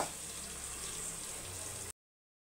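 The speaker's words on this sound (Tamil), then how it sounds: "இப்போ தண்ணியை சேர்த்துக்கலாம்." Steady broadband rush of water poured into a cooking pot for jeera rice, continuous for about two seconds before cutting off abruptly.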